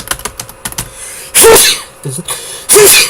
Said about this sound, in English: I always sneeze twice for some reason.